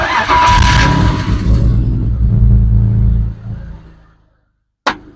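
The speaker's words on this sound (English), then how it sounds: "Start the car." A BMW E39 inline-six with a misfire fault, worked on for spark plugs, coils and water in the plug wells, cranks, fires and revs loudly up close, then drops off into silence before a brief sharp click at the end.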